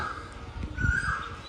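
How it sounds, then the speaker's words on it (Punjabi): A koel calls in the background, a faint rising tonal note heard through outdoor noise, brief and distant. "ਕੋਇਲ ਬੋਲਦੀ ਆ"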